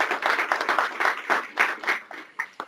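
A church congregation claps after a sermon, a fairly close, irregular patter of hands lasting a few seconds, with no voices over it.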